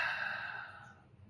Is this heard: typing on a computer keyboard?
no